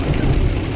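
Rain patters steadily on a Tesla while driving through light traffic, a dense continuous wash of drops over low road rumble, close and fairly loud with no talk.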